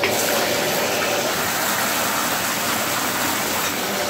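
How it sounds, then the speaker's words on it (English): Water gushes hard and steady from a jacuzzi bathtub faucet, a loud continuous rushing pour that fills the whole short stretch without any talk over it. "And man, does this thing put out a lot of water."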